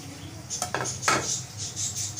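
Chopped carrot, capsicum and onion go into a pan of Chinese chicken with cornflour, with faint metallic clinks and a spoon scraping against the pan over a quiet background.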